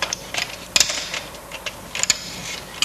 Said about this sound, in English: Then we'll take our ratchet wrench and get it started.